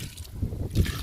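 Liquid fertilizer is poured onto a potted Texas flowering plant in full bloom, a short close trickle and splash of liquid into the soil with no voice.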